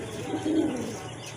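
Pigeons at a market stall selling domestic and foreign fancy breeds, cooing in a low, soft, warbling murmur, close and steady, with no talk.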